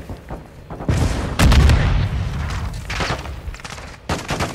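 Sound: grenade explosion in video game Call of Duty: Modern Warfare 2

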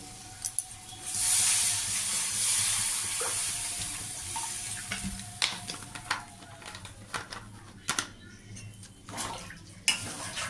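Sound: pouring water into frying vegetable curry

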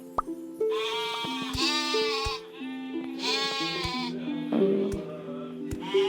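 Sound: sheep bleating in Mini World video game

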